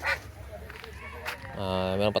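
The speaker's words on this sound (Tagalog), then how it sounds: "Yung gansa natin." A farm goose honks on a Philippine homestead, with a couple of nasal honks at the start and a longer harmonic call near the end, heard alongside a person talking and other yard sounds.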